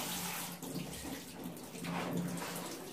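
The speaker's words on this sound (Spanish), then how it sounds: "ya estamos en la bañera con el helecho. Vamos a usar agua bastante flojita y tibia" Gentle, low-flow lukewarm water runs steadily in a bathtub as a fern is rinsed, a soft continuous splashing trickle close by with no voices.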